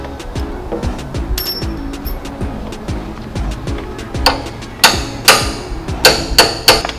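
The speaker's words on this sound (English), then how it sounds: "It's hammer time." A hammer knocks a bolted stud out of an El Camino's rear suspension, with lighter taps first, then a closing run of sharp metallic blows, close and loud, each ringing briefly over a steady low rumble.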